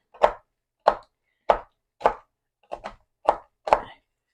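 A knife chopping ingredients for a cranberry pistachio sweet cheese ball on a cutting board, seven crisp, evenly spaced cuts about half a second apart, close and clear with no talk.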